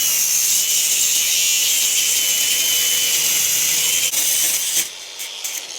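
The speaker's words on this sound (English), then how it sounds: "If you don't have a grinder, everybody uses snips. So you can easily cut this stuff with snips. Same thing. I just prefer the grinder." An angle grinder cuts through metal mesh lath while a wall is prepped for stone veneer, giving a loud, high, continuous whine close by that drops away near the end.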